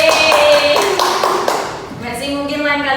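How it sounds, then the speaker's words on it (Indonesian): A classroom of students gives a short round of clapping for a pupil named Putri, close and lively at first, then thinning out as a voice talks over it. "Ya, tepuk tangan buat Putri."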